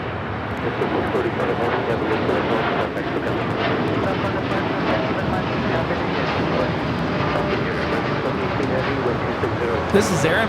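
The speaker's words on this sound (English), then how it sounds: "This is Aeromexico 647 taking off to Mexico City on the 787-9 Dreamliner" An Aeromexico Boeing 787-9 Dreamliner takes off from Los Angeles LAX, its engines a continuous loud roar sustained throughout, with voices talking over it.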